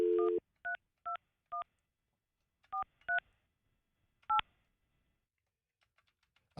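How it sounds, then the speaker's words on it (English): Touch-tone telephone keys are dialed, producing eight short, clear dual-pitch beeps in uneven groups with pauses between them, ending in near silence with faint clicks. "Let me dial her up."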